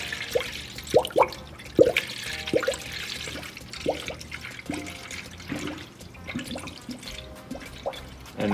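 Coolant pours through a funnel into a 1976 Mercury Comet's cooling system, gurgling in uneven glugs, with small splashes and drips coming close together, nearby and fairly quiet.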